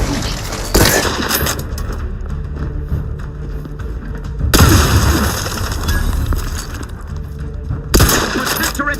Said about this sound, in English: An explosion! Hastening to cover!